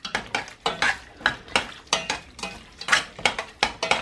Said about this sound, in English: Use your spoon and also use your chopsticks or your ladle, whatever you have on you, to stir.